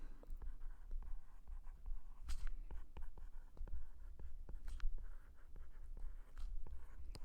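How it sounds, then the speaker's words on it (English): Pen or marker writing out a math definition by hand, a steady run of small scratchy strokes with brief taps, close and fairly quiet, with no talking. "So let's write that down as a definition so we have it."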